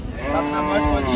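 A young bull calf at a cattle market gives a close, loud, sustained moo lasting about a second, with no talk over it.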